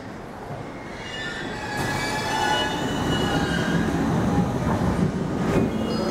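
A Tokyo Metro Tozai Line 15000 series rapid train pulls away from Tsudanuma station on the JR Sobu Line, its rumble building and wheels squealing faintly as it gathers speed.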